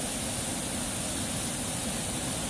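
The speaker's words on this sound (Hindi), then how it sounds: "थोड़ी दूर चलने के बाद हमें एक बड़ा सा वाटरफॉल देखने को मिलता है, जिसकी पानी की जोरदार आवाज़ आप सुन सकते हैं।" A large waterfall in the Valley of Flowers, Uttarakhand, swollen by monsoon flow, roars as a dense, constant broadband rush of water, loud and steady with no voices.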